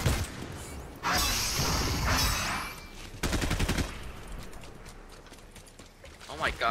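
Video game gunfire with pistol shots: a loud burst of shooting, then a quick run of rapid close shots, fading into quieter background game noise.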